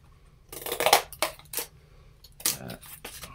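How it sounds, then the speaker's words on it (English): Scissors snip through paper pieces for a DIY calipers project: several crisp, close cuts in irregular bursts, with quiet pauses between them and no talking. "So if you just have scissors, you can go ahead and cut."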